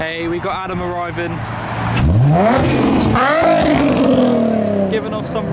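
A modified car at a car meet revving its engine, rising and falling engine pitch sweeping up loudly in the near field, with other cars and crowd noise around.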